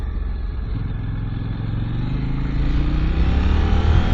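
A sport motorcycle on a fast ride, its engine note stepping down as the rider shifts down with a quick shifter instead of the clutch, a steady close droning roar that swells slightly louder throughout.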